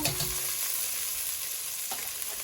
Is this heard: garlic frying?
yes